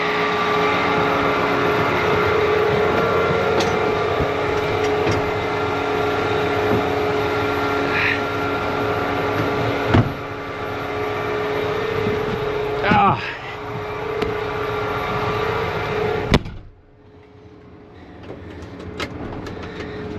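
Inside the cab of a John Deere 8RX370 tractor as it drives: a steady, loud engine drone with a low hum fills the cab and cuts off abruptly near the end, with voices talking over it.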